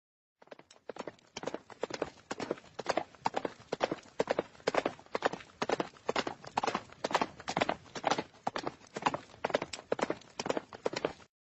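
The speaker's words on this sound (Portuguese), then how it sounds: "eu ouvi barulho de cavalos trotando" Horses trotting, presented as an approaching cavalry, with steady repeated hoofbeat clip-clops that keep an even galloping rhythm throughout, fairly close and consistent in loudness, no voices.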